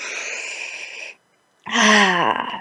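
One person draws two deep, audible breaths close by, the first a steady airy pull and the second louder and rougher after a brief silent pause.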